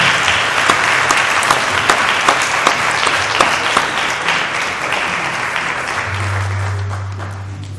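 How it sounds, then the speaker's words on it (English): A pageant audience claps loudly for the newly crowned Herbstfest queen, steady, dense applause filling the hall that slowly tapers toward the end while a low hum rises beneath it. "Once again, ladies and gentlemen, a big round of applause for our 36th Miss Herbstfest Queen, Jenna Brock."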